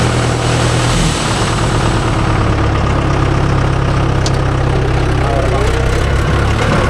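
A Mahindra 575 DI tractor idles close by at a worksite where a JCB 3DX backhoe loads soil. Its engine gives a loud, steady, unbroken rumble while people talk over it.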